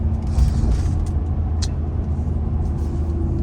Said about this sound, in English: this truck is just so insanely loud